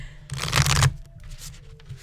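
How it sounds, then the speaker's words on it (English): A deck of cards is shuffled once, close and loud, as a single dense riffle burst of about half a second, followed by light handling sounds. "I haven't shuffled these very much."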